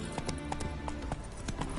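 Horse hooves gallop in The Witcher video game with a quick, rhythmic clip-clop of soft thuds, fairly faint beneath low background sound.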